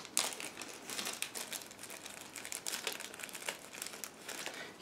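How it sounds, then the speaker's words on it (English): A plastic bag from a 1/32 scale Special Hobby Yak-3 model kit is pulled open by hand: close, quiet crinkling and rustling in quick bursts, a sharper crackle at the start, and no voices. "Just give me a second to open first plastic bag."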